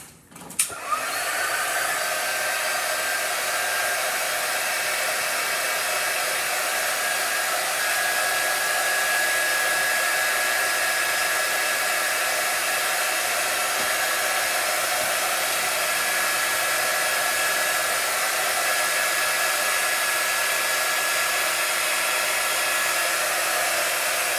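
A hair dryer blows steadily and loudly while drying a chalk-painted ornament, with a constant whooshing roar and a faint whine running almost without a break, and no talking.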